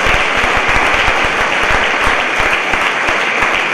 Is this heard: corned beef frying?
no